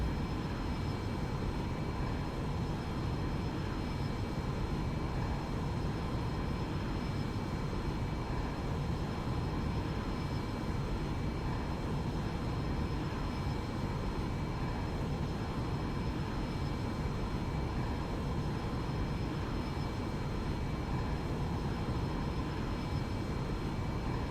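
Small propeller plane in the X-Plane 11 flight simulator, a steady unbroken engine drone holding at an even, moderately loud level throughout with no talking.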